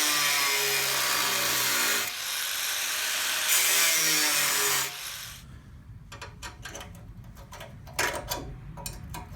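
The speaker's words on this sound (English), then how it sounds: "cut this section of soft metal out and put in a little triangle of fresh steel" Power tool cutting out a section of soft, rusted steel from a Land Rover chassis rail, a loud continuous grinding whine for about five seconds, then stopping to scattered scraping and clattering of metal.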